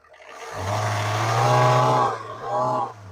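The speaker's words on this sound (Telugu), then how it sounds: "సో టీడీ ఇంజిన్ బీటింగ్ ఇలాగే ఉంటుంది. ఒకసారి రేస్ చేస్తున్నాను ఒకసారి." A Tata Indigo diesel car's TD engine idles with a deep, steady thrum, then is revved up, holding a loud raised tone before falling back and surging once more briefly; no speech is evident.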